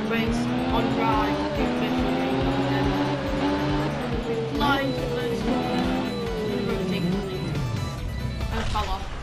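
Motorcycle race start in the video game RIDE, with loud engines revving and shifting pitch as bikes pull away, under a commentator's talk.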